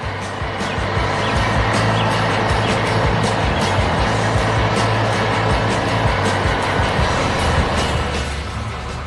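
A fire truck engine drones continuously, a loud, steady low rumble close by with a constant, unbroken level and no clear voices.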